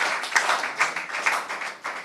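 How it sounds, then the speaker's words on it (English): Small, uneven clapping from an audience at a political gathering, a few hands beating in loose rhythm at moderate loudness. "I think that man deserves a round of applause."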